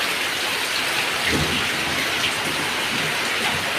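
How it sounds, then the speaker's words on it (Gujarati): Heavy monsoon rain pours steadily over Vatam village in Banaskantha, with low rumbles of thunder rolling in beneath the dense, continuous hiss. "એકમગા વીજળી ને ગાજવાનું પણ ચાલુ છે ને વરસાદી પણ ભયંકર છે"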